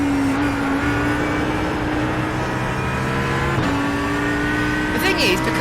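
An Audi GT3 race car at Watkins Glen in iRacing holds a loud, steady engine drone with a shift in pitch midway, while someone talks over it throughout.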